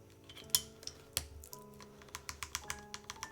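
Crisp clacks of keys and a stabilizer pressed on a Mode Sonnet mechanical keyboard with regular keycaps, a run of close, sharp, irregular taps with a few louder thocks, no voices.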